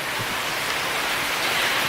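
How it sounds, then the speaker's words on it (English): Steady rain falls in a dense, even hiss with no distinct drops standing out, continuous and fairly close throughout the short stretch, with no talking. "I happen to love the rain."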